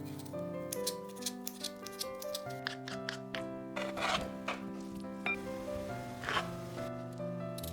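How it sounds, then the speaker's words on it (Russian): A knife dices peeled, cooked beetroot into small cubes on a board: a run of crisp, irregular chopping taps, close and fairly quiet, under steady background music. "Заранее отваренную или запеченную свеклу очищаем и нарезаем небольшими кубиками."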